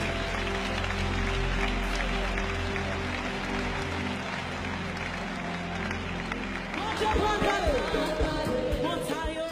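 A church congregation claps along at worship, a dense steady wash of many hands mixed with voices and music, continuous and fairly loud.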